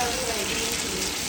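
Tadka of spices frying in hot oil for a village-style lasoora (gund) pickle, a steady close sizzle and crackle throughout, with no voices over it.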